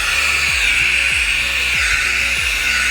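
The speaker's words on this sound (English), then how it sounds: "We'll go ahead and turn it back on. And let's put it on the high mode." A HOTO cordless handheld car vacuum cleaner running on high mode, a loud, steady high-pitched whine close by, with low thumps recurring roughly every half second as the nozzle scrapes along a surface.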